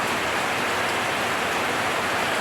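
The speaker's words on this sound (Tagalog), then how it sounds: "pero sige gyapon ng ulan" Steady, heavy typhoon rain from Super Typhoon Goring pours down continuously in Bago, Negros Occidental, a dense, close hiss of drops with no voices or pauses.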